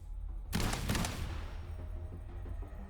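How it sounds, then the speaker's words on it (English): Gunfire in the video game Wuthering Waves: a loud burst of rapid shots breaks out after a brief lull, then fades into a lingering rumbling tail with scattered later pops. "Gunfire! We've got intruders."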